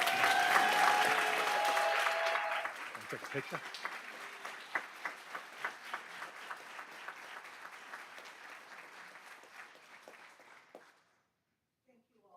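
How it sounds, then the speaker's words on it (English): Audience at a school board meeting applauding for Mary Bolo, a dense burst of clapping up front that thins into scattered claps before stopping, with a brief spoken remark in the room. "One big round of applause for Mary Bolo"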